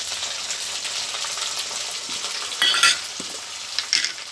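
Chopped tomato drops into onions frying in a pan with a steady sizzle and soft stirring. A louder crackling burst follows, then small spatters and scraping near the end. No one speaks.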